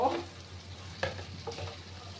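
Potatoes and fish roe sautéing in a pan, a low continuous frying sizzle with a few soft scraping stirs of a spatula, quiet and close, no talk.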